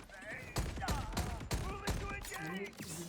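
A weapon fires in Borderlands 4, a series of sharp gunshots coming at uneven intervals, with someone talking in Turkish over the shots.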